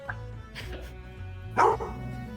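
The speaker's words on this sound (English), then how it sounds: "Random dog." A single dog gives a couple of short, sharp barks over a low background hum, with one louder bark near the end.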